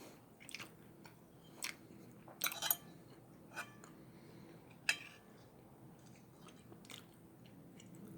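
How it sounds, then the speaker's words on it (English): A big burrito with beans, meat and breading being chewed with an open mouth, giving close, crisp wet bites and crunches spaced irregularly through quiet background. "You get more sounds if I chew with my mouth open, so that's what I'm trying to do."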